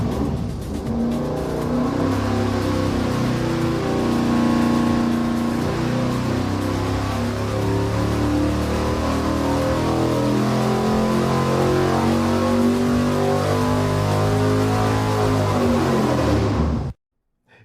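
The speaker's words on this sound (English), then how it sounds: "I'm gonna make Steve fire it up on the dyno" Engine fitted with heavy-duty valve springs and beefy pushrods running hard on a dyno, a loud sustained roar rising steadily in pitch through a long pull, then cutting off abruptly.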